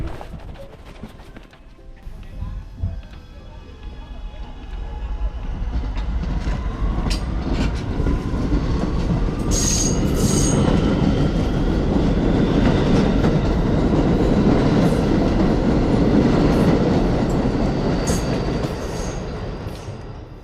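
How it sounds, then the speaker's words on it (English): A Staten Island Railway local train bound for Tottenville rumbles steadily and loudly, with rail clatter, wheel squeal and faint onboard chimes building after a quiet start and holding throughout. "This is a Tottenville-bound local train."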